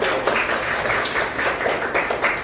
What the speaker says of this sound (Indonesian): Kita kasih tepuk tangan untuk dua teman ini.